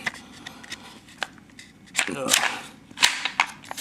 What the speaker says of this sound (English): You'll hear it click once it gets into the mag.